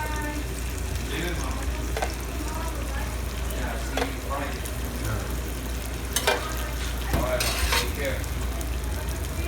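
Beaten egg and cooked vegetables frying for an omelette in a pan, a steady loud sizzle with scattered utensil scrapes and clinks against the pan, faint voices murmuring in the background.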